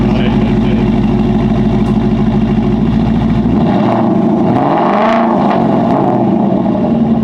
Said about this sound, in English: Want to fire it up and Get some revs? See what it sounds like.